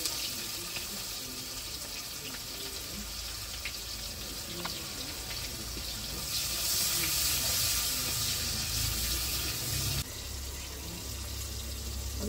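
Chopped onions frying in oil in a wok (kadai) for a Bengali fish curry. A steady, close, hissing sizzle runs throughout and swells briefly louder partway through.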